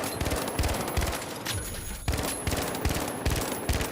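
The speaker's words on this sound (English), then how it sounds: "They will reload after shooting like 4 shots. As that guy just did. He's got an M60." M60 machine gun fire in the shooter game The Finals: repeated short bursts of rapid shots, a brief pause midway, then more bursts, loud and close throughout.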